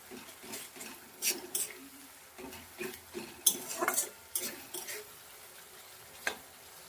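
Spice paste for a fish curry being stirred and fried in a pan over medium heat, with a faint steady sizzle under scattered light clinks and scrapes of the spoon.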